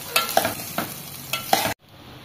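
Rice and mutton frying in a pan for pilau, with several distinct stirring scrapes over a soft sizzle, close and fairly quiet, ending abruptly.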